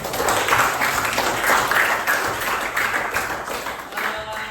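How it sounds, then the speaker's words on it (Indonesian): Students in a classroom applaud together, a dense, steady wash of clapping held at an even level throughout, with faint voices mixed in. "Kasih tepuk tangan buat kalian semua."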